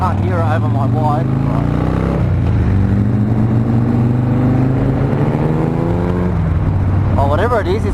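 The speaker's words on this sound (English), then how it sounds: "whatever it is, it's got a rotary motor in it." A rotary-engined car revs hard nearby with a smooth, buzzy rising whine, held loud and steady for several seconds.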